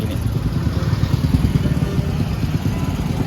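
A motorized becak pedicab, fitted with a modified motorcycle engine, putters nearby on a busy street in Malioboro, Yogyakarta. The engine runs with a steady, rapid low chugging throughout.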